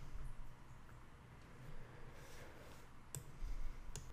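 A computer mouse clicks the create account button while setting up an email account, giving a couple of faint, crisp clicks in a quiet room.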